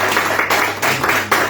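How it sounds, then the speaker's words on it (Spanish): A church congregation applauds warmly for a visiting pastor, a loud, dense wash of clapping with slight surges, continuous throughout and no voices over it. "Lo hacemos con un fuerte aplauso"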